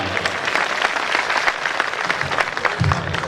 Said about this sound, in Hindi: एक बार जोरदार तालियां बजा दो जरा सारे